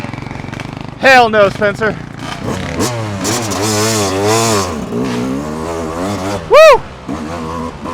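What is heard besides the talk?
Yamaha YZ250 dirt bike engine revving uphill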